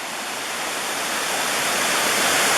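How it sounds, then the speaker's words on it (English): Deep Creek waterfall in the Great Smoky Mountains, a steady dense rush of falling water heard close and alone, growing slightly louder over a few seconds. "A few stairs down to the falls. It's a nice little falls."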